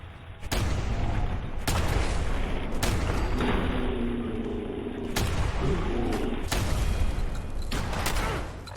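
Gunfire in the video game Fallout 4 during a bar showdown, with several loud, sharp shots spaced a second or two apart, each followed by a booming tail, and a low rumble in between.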